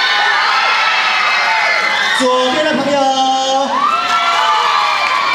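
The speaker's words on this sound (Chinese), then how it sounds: "你们右边的朋友欢呼声在哪里？" Crowd of high school students cheering and shouting loudly on campus, a dense sustained roar of voices with whoops, while a host speaks over the noise through a microphone.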